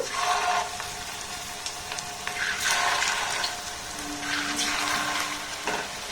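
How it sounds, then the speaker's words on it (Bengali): Semolina sweets fry in shallow oil in a frying pan, giving bursts of bubbling sizzle that swell and fade over a steady hiss. Nobody talks. "এবার যেগুলো মিষ্টি শেপ দিয়েছি সেগুলো তেলের মধ্যে দিয়ে দেব। আমি একদম ডুবো তেলে ভাজবো না, কম তেলেই ভেজে নেব।"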